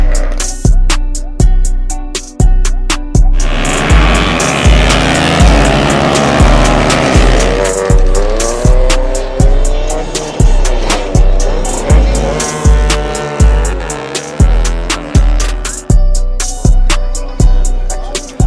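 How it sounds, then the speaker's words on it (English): Loud, rapid two-stroke engine blasts in a pulsing rhythm at a drag meet, with a sustained high-revving stretch in the middle, close and dominant with no talking. "there's a lot of noise because of the two-stroke"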